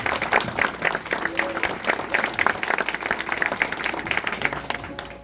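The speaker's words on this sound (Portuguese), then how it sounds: "Aplauda a palavra de Deus." Congregation clapping after a Gospel reading at a Portuguese-language church service, sustained crowd applause at an even level for several seconds, thinning slightly toward the end.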